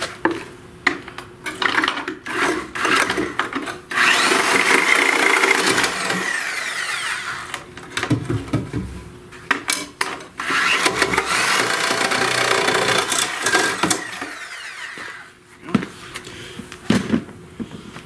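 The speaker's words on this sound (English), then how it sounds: "To cut the nails with the Sawzall." Sawzall reciprocating saw cutting through nails in reused wood during a basement drywall job, running in loud sustained bursts with short pauses between cuts, close and harsh.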